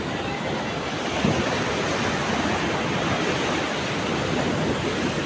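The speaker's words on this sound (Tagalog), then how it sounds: "hanggang dito inaabot na ng alon yung mga bangka dito kahit mga nakataas na" Large waves churned up by Typhoon Enteng crash and roar near fishing boats hauled up on shore, a loud, continuous rushing surf with one stronger surge early on and no voices.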